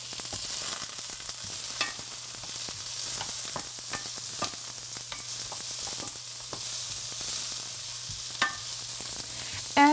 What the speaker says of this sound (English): we're going to cook the squash along with the onions for about 3 or so minutes